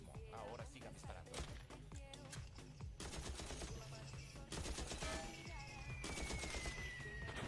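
Gunfire rings out from a Doctor Who episode, rapid overlapping shots and bursts in a dense fusillade mixed with music and voices.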